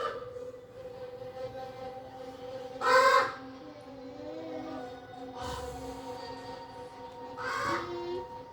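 Crows caw in a few harsh, separate bursts, one loud and near and others fainter, over a steady low background hum.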